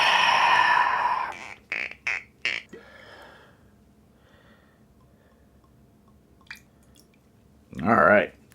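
Buffalo Trace bourbon poured sloppily over ice in a glass makes a few short glugging, splashing bursts, with vocal sounds at the start and near the end.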